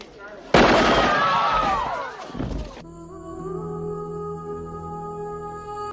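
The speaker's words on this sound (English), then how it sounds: "Michael Ironside and the science police start shooting up the place" Gunfire from a shootout in the film Total Recall: a sudden loud burst of crackling shots and impacts for about two seconds, then a drop into a sustained tonal music-like drone.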